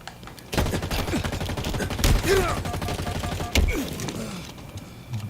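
Automatic gunfire in Halo Infinite multiplayer rattles out in loud, sustained rapid bursts for several seconds, close and dense, with heavier thumping impacts breaking through the stream of shots.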